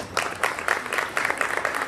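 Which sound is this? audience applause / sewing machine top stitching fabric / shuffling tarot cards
audience applause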